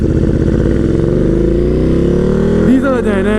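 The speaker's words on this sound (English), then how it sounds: "Now I'm going to be going there throwing the quick shifter." KTM Super Duke motorcycle ridden hard on the Kyalami circuit, a loud sustained engine roar climbing in pitch, then a quick-shifter upshift cuts in near the end and the revs drop and rise again.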